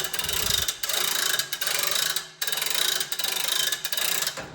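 A lift being cranked to raise a Honda CT70 motorbike, giving loud, rapid ratcheting clicks in long runs broken by short pauses between strokes.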